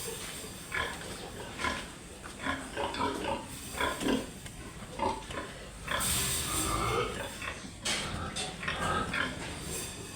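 Piglets near a boar grunt and squeal in a pen, close by, in repeated short bursts with a louder, longer squeal midway.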